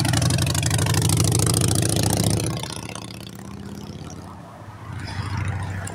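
A motorcycle engine idles with a steady low rumble, loud and close, then drops in level partway through before swelling again.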